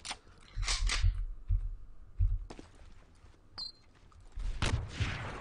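Sniper rifle shots in an indie browser first-person shooter game: several sharp, punchy cracks spaced irregularly over quiet gaps, with one last burst near the end.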